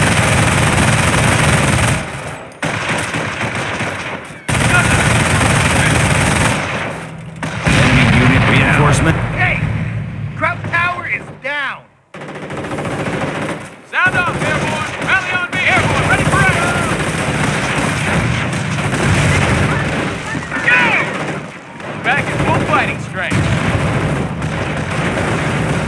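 Machine guns and rifles fire in a World War II battle in Company of Heroes, dense bursts and crackling shots mixed with booms, with soldiers shouting throughout.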